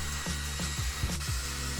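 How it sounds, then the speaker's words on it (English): A regular household hairdryer blowing steadily on a low setting to dry acrylic paint, a close, continuous whirring hum with an even airy rush that never pauses. "This is just a regular household hairdryer."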